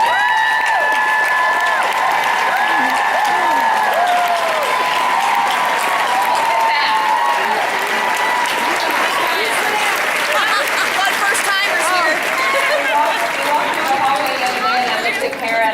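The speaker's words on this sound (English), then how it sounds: "Could you stand up so we can all give you a round of applause?" A large audience at a Xyngfling convention in Nashville applauds first-time attendees with sustained, loud clapping and some cheering, while a voice on a microphone carries over the crowd.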